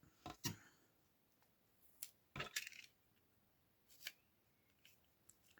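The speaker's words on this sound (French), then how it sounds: "Par contre, mon cutter ne coupe peut-être plus assez." A dull utility knife slices through leftover paper scraps in a few short, sharp scraping strokes with quiet pauses between them, heard close up in a quiet room with no talking.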